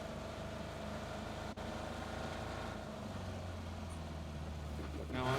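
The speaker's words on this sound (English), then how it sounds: "There's a car coming straight at us." A car in a video game drives straight toward the player, a steady low engine drone with a brief cut partway and a deeper hum growing louder toward the end.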